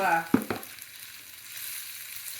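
Tofu sizzles in olive oil with a soft, steady hiss after a couple of quick clacks as pieces go into the hot pan. It sounds close and quiet, with no talk.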